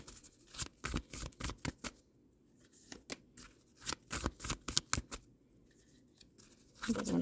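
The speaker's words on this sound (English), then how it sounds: "I'm going to pull you three cards for the Wild Offering Oracle deck" Cards from the Wild Offering Oracle deck are shuffled and pulled by hand, giving close, quiet bursts of riffling and sliding card stock in irregular clusters with short pauses between, and no voices.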